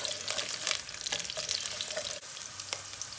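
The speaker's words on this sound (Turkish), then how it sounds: "Şöyle bir 10-15 saniye havuçları yağda bir kızartacağım." Carrots sizzle steadily in hot oil in a pan, a close, continuous crackling fry with small pops throughout and no voices.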